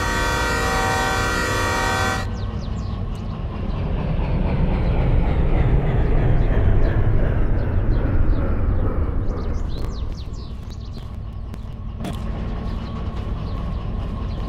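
A long 1,400-ton freight train in the railway sim game Derail Valley, a steady horn blast opening over a heavy rolling rumble of wheels and cars that swells and lingers, loud and continuous.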